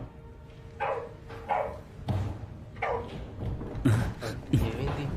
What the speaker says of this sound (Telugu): ఏంటి కుక్క ఇలా అరుస్తుంది ఏంటి?